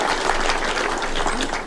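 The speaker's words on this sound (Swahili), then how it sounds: "Wapigie makofi" A crowd claps at a church thanksgiving service in Kakamega, Kenya: a thick, continuous burst of applause that stays loud and even throughout, with a faint murmur of voices mixed in.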